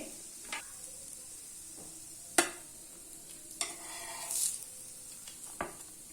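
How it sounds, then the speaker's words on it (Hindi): A veg burger tikki patty fries on a griddle with a faint steady sizzle, broken by a few scattered clicks and scrapes of a spatula turning it. "टिक्की को दूसरी तरफ से भी सेक ले।"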